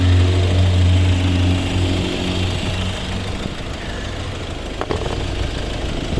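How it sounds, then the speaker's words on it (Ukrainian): A 2012 Volvo V50 D2 diesel engine idles nearby with a steady low throb, louder at first and then settling into a softer, even hum, with a brief click near the end. "Ось робота двигуна."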